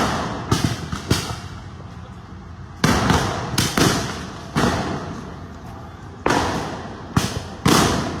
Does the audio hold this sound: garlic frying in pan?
no